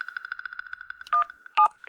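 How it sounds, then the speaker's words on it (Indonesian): Telephone keypad dialing tones, a rapid even series of short beeps followed by two longer, louder tones, heard alone without talk. "Aku telepon bank sekarang."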